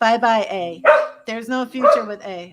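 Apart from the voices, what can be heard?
dog barking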